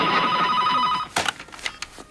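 A telephone rings with a steady electronic bell tone for about a second, then stops, followed by a few softer clatters and knocks as the handset is picked up.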